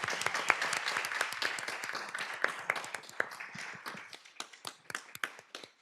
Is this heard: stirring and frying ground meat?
no